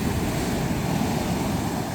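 Surf breaks and washes onto a beach at midnight, a steady, loud rushing roar with wind noise that fills the whole stretch without pause.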